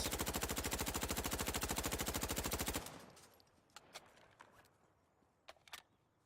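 Insurgency: Sandstorm automatic rifle fire rattles in one sustained rapid burst of about three seconds. Quieter scattered clicks and shots follow.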